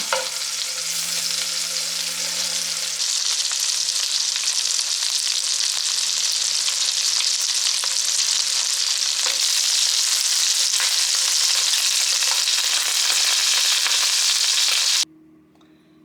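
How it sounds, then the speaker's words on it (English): Sausage fries in bacon grease with a loud, continuous close-up sizzle that holds steady for about fifteen seconds before cutting off abruptly. "I'm going to add the sausage to that bacon grease and give them a little fry."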